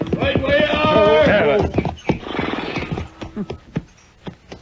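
Horses whinny loudly up close, followed by scattered hoofbeats clopping on the ground as the calls fade.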